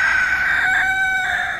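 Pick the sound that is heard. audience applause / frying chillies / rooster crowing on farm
rooster crowing on farm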